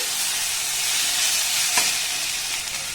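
Salted vegetables are stirred and fried in a pan. A loud, continuous sizzle close by holds steady throughout, with a slight clatter of stirring partway through.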